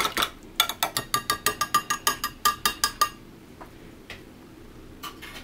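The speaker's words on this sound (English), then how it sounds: "I'm going to whisk my little extra ranch in there" A whisk beats extra ranch dressing in a bowl with about fifteen quick, evenly spaced clinking strokes, then a few scattered taps.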